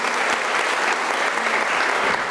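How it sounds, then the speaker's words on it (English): A loud, thunderous round of applause fills a university graduation ceremony, dense and continuous clapping from a large audience throughout, close and even in level with no talk over it. "let's give Professor Munyai another thunderous round of applause."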